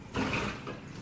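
Water from a pot of boiled potatoes being poured off to drain, a brief close rushing pour that starts abruptly and then tapers into a softer wash.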